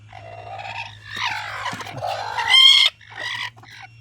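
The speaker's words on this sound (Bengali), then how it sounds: "এটা কিন্তু সব ঝুটি মুরগি এই দেখেন এটা কিন্তু ঝুটি মুরগি" Crested desi chickens on a farm cluck and call in a loud, close flock, with overlapping squawks and one sharp, higher cry near the end, with no talking.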